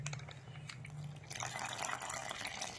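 Liquid milk, 500 grams, pours into a pan for malai patishapta, a soft steady trickle and splash that grows fuller and brighter partway through, quiet and close with no talk.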